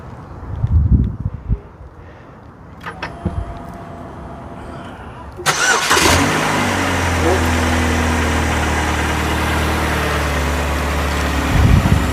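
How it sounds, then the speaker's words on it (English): A 2011 Chevy HHR engine cranks and catches partway through, then settles into a steady, rumbling idle that runs to the end, preceded by quieter handling noises. "our engine, you hear the sound purring like a kitten"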